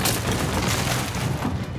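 A German machine gun fires in World War II combat, a loud, dense burst of rapid shots that crackles continuously like a string of firecrackers before easing off at the very end.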